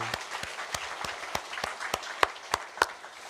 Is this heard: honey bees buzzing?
no